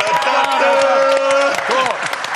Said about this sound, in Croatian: Aplauz za Milanča, televiziju!